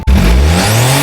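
Autozam AZ-1 kei car engine revving hard at close range, with a loud intake roar from a power chamber intake and a rerouted blow-off valve, rising steadily in pitch for about a second.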